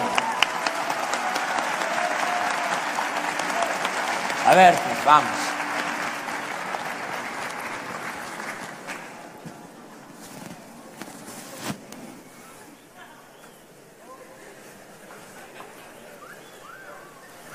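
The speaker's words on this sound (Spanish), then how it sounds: "Un aplauso, por favor" Audience applause at an interview event at the TEC de Monterrey, sustained clapping from a crowd that fades after several seconds, with someone speaking briefly over it.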